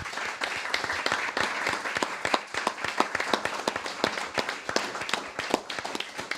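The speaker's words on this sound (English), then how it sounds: "Huge round of applause" Applause breaks out at a one-day community event in a hall, with sharp, uneven claps from a modest crowd that stay steady throughout and are heard on their own.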